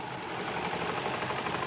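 A sewing machine runs steadily while stitching a stretched knit cuff onto a sleeve, giving a close, continuous motor whir with fast needle ticking.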